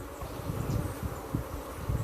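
Honey bees buzz around a brood frame in an open hive, a close, continuous dense hum with individual bees droning in and out.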